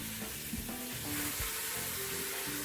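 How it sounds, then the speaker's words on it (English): Beef browning on all sides in a pan while being stirred, a steady sizzle and frying crackle with occasional stirring clatter, close and continuous, no talking. "We're just browning it on all sides, just for a few minutes."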